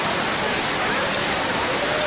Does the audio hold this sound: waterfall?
yes